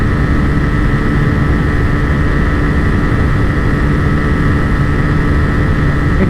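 A Hero Xtreme 125R and a TVS Raider 125 motorcycle in a drag race produce a steady, loud, continuous engine drone with wind noise throughout and no talking.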